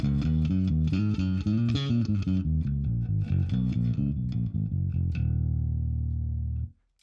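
Fingerstyle electric bass played through an Ampeg SVT amp on its normal channel into an Ampeg 8x10 cabinet, a busy run of deep, punchy plucked notes that ends on a sustained low note and then stops.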